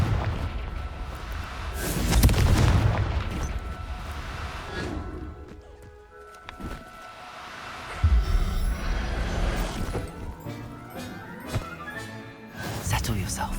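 The Confringo fire spell bursts in Hogwarts Legacy, a deep booming blast with a rushing whoosh, then a second heavy rumble after a lull, with a voice talking over parts of it.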